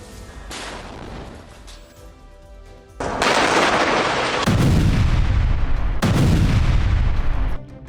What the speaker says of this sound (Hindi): गाजा में जमीन और आसमान से इजराइल के बम बरस रहे हैं।